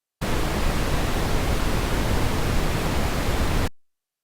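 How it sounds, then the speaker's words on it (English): Steady broadband noise test file, a constant hiss like a huge waterfall, evenly loud for a few seconds before stopping abruptly into silence. "What we're looking at now is a sound file of noise, kind of like what you'd hear at huge waterfalls."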